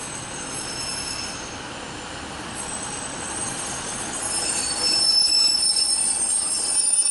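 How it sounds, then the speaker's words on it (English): A National Rail train pulls into Altrincham station with a steady rumble and high, ringing wheel squeals that grow louder as it nears, with no voices. "we've got a train arriving. This is a National Rail service."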